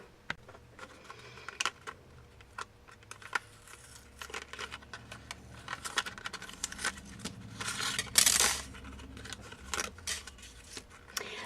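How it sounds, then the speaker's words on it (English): A Big Shot die-cutting machine runs card stock through with a large Spellbinders die, giving a string of close clicks, crinkles and grinding rasps that swell into a louder burst near the end, with no voices. "Basically, what we want to do is cut it out with our Big Shot."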